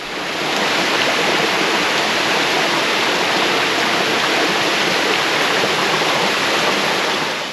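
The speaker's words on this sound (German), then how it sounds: "Ein herrlicher Wasserfall, der hier am Boden auf dem ebenfalls heruntergefallenen Schnee prallt." An alpine waterfall near Klöntalersee crashes onto fallen snow and avalanche debris, a loud, steady, unbroken roar filling the scene with no other sounds.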